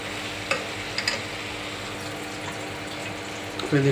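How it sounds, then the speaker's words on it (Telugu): Tomatoes going into a hot cooking pan: a steady hiss of frying with a few soft clicks and a brief louder burst near the end, no voices. "ఇప్పుడు దీంట్లో టమాటాలు వేసుకోవాలి"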